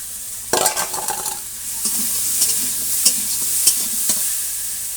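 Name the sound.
bitter gourd and potatoes frying in a pan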